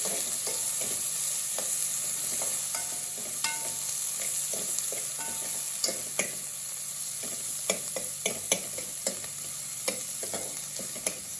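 Ginger garlic paste frying in a pan for masala curry, a continuous sizzle punctuated by frequent light spoon taps and scrapes as it is stirred.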